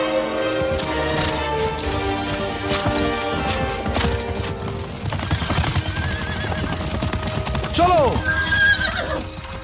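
Horses whinny loudly amid clopping hooves and general commotion in a Hollywood action film dubbed into Hindi, with a sharp neigh near the end standing out over a dense, busy soundtrack and voices.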